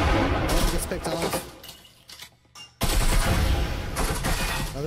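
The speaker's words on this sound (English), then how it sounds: "Lots of bullets coming through" Dense gunfire in the Breachers VR video game, with bursts of rounds punching through walls; loud, continuous volleys that briefly drop out before resuming at full intensity, with voices mixed in.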